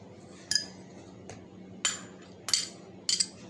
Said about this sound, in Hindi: इन सब चीज़ों को हमने अच्छी तरह से फोक से फेंट लेना है, अच्छे से मिक्स हो जाए